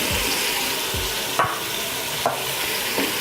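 Pieces of tinda go into masala frying in a pan for tindey gosht, and a loud, steady sizzle follows, broken by a few clanks of a spoon stirring.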